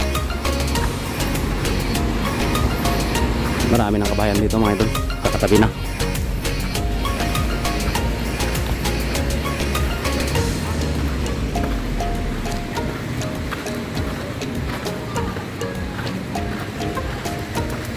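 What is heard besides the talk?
small ocean waves at Olanen beach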